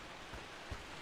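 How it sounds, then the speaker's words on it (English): Rain in the Rise of the Tomb Raider video game, a faint, steady broadband hiss with a couple of soft low thumps, no voices. "Sound of rain."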